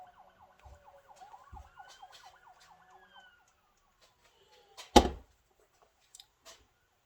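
A wailing police-style siren from a TV sweeps up and down at moderate distance for about three seconds, then fades, followed by a sharp thump and a few small knocks.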